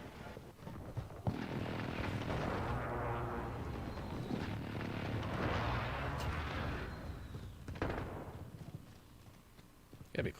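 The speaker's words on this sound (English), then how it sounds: "Allied precision airstrike incoming." An airstrike in a video game sends out a sustained roar of heavy explosions. Booming blasts rumble and overlap, then a sharp crack cuts through near the end. Faint game sounds run underneath.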